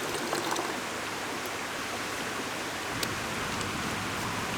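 River stream flowing steadily in the Smoky Mountains, a continuous broadband rushing of water heard close up with no voices.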